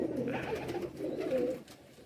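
A Faqeer Gul pigeon, a Bazari 2, coos softly up close in a couple of low, throaty rolling phrases.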